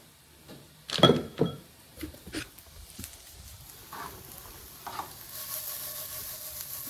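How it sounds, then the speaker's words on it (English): Vegetables dropped into a pan on a stove set to medium for homemade pizza, a soft sizzle building after a few clattering knocks and stirring sounds, faint and close. "Just turn the stove to medium and then put my veggies in"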